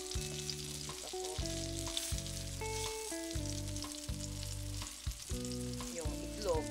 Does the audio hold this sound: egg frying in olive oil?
yes